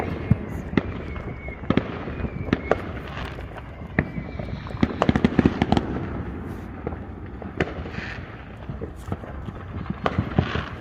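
Fourth of July fireworks go off along a residential street, with rapid, irregular cracks and pops, some loud and close and others more distant, in a continuous barrage lasting about ten seconds.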